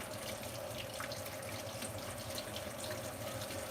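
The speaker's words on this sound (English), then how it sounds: "now we can start running it under the faucet" Water from a faucet runs steadily into a sink while a makeup brush is rinsed under the stream, a close, constant hiss with no talk over it.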